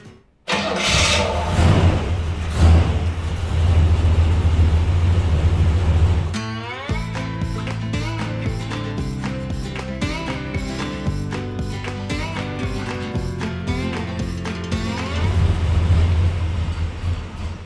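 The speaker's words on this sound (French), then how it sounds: "je vais démarrer là rapidement pour que toute l'huile se mette dans le circuit" A pick-up truck's engine cranks and catches after an oil change, revving loudly at first, then settling into a steady mid-pitched idle with a brief rise in revs near the end.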